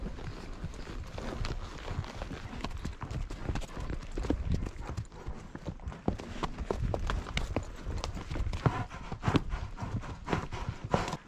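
Horses' hooves clip-clop steadily on a cold, slick canyon trail as riders head up in search of cattle, the dense, uneven rhythm of several hooves close and continuous throughout.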